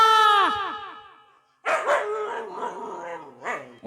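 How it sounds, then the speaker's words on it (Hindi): A dog barks close by in a village lane: a long, falling yelp first, then after a brief pause a burst of loud, rapid barks. "अरे कोनो कुत्ता लागे छोरे"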